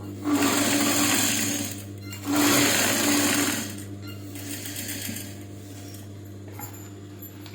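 Sewing machine stitching along the edge of a kerchief, loud rapid whirring bursts of several seconds each, with two strong runs followed by a quieter, lighter one.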